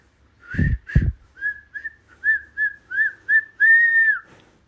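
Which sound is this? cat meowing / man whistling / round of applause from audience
man whistling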